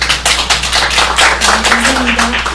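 An audience at a workshop on DMZ biodiversity applauds to welcome a speaker: dense, continuous clapping from a roomful of people, loud and sustained for a few seconds.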